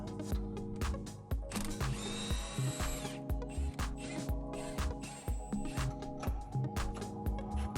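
A power tool undoes the bolts on the front coilovers of a Honda S2000, a close, steady whirring broken by rapid repeated clicks and short bursts.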